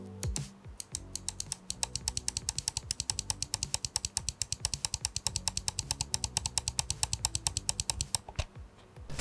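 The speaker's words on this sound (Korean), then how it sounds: "좌우 클릭은 전작과 동일한 LK 광 스위치를 사용했는데 설계의 변화 때문인지 미세하게 클릭 압력이 높아진 기분이 듭니다." Left and right buttons of a Cooler Master MM731 wireless gaming mouse with LK optical switches, clicked rapidly and steadily in a long, even run of crisp, close ticks with no talk.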